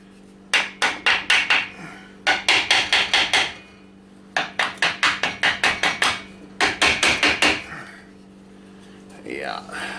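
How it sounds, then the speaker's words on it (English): A wooden mallet strikes a Yamaha G1 crankcase in four quick bursts of sharp knocks, each burst of about five to six blows, close and loud over a steady low hum, ending in faint rustling. "Take our wooden mallet"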